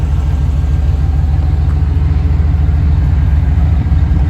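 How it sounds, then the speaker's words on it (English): A 1992 Chevy Silverado K2500 pickup rumbles with a deep, loud, steady exhaust note, heard close up as a constant low drone. "Nice sounding exhaust on it."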